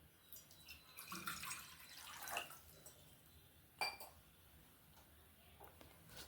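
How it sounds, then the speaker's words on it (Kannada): Water pours into a pan for a skin glow drink, a splashing, dripping stream that swells and fades over several seconds with a few sharper spatters, close by and with no talk. "ನೋಡಿ, 1 ಗ್ಲಾಸ್ ಆಗೋಷ್ಟು ನಾನು ನೀರು ಹಾಕ್ತಾಯಿದ್ದೀನಿ ಇವಾಗ."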